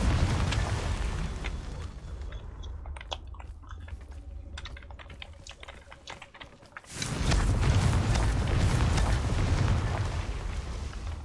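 A Confringo fire-blast spell bursting in Hogwarts Legacy, a sudden loud roaring blast after a quieter stretch of clicks and tones, sustaining as a dense rumble to the end.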